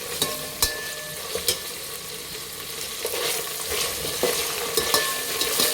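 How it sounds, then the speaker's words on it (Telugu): Ginger garlic paste frying in hot oil in a pan, a continuous close sizzle broken by scattered sharp spatters and stirring clicks, with no voices. "అల్లం వెల్లుల్లి పేస్ట్ మంచిగా వేసుకోవాలి ఆయిల్లో"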